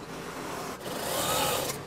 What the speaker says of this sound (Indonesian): Saya akan menjahit bagian ini. Kemudian jahit.